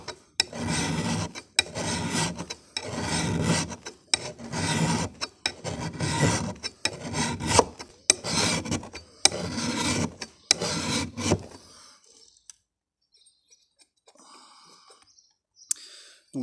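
A file rasps across the blade of a long-handled adze in a steady rhythm of about ten firm strokes, each a harsh scraping burst, then stopping, leaving near silence with faint small clicks.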